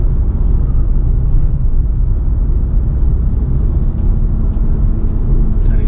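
Mitsubishi Xpander Cross automatic MPV engine droning steadily while driving, a loud continuous low rumble with road noise and no breaks, heard from inside the cabin without talk.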